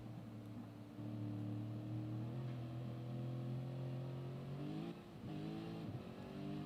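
A Lexus Gr.3 race car engine in Gran Turismo Sport on a wet Spa circuit, a loud sustained droning tone that climbs with revs, dips briefly near the end and rises again.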